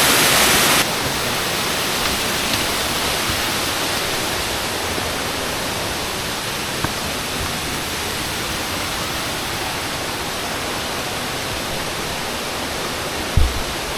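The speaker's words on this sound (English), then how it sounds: "Look at that waterfall though" Waterfall at a three-tier falls, a loud, steady broadband rush of falling water that runs unbroken throughout, with a brief louder bump near the start and a thump near the end, no talking.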